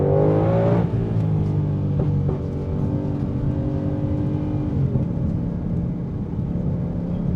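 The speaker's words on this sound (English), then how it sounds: "Full throttle pull." A 2020 Shelby Mustang GT500 accelerating at full throttle on the road, heard from inside: a loud, rising engine drone with a brief dip as a gear change hits, then climbing again steadily.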